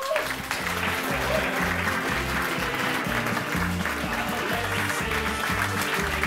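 A studio audience at a Bremen talk show claps steadily and loudly, giving a dense, continuous applause that welcomes Christian Weber, president of the Bremen parliament, onto the stage.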